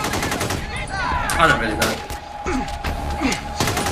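Gunfire during the North Hollywood shootout in Los Angeles, sharp repeated shots and bursts ringing out at irregular intervals, with people talking over them.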